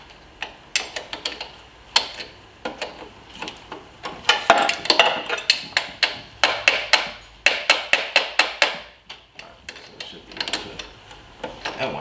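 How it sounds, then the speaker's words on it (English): Pliers work on a Honda Civic Si engine, producing a run of sharp metallic clicks and taps that come in quick irregular clusters, some louder bursts in the middle, close and unaccompanied by talk. "Let's try pliers."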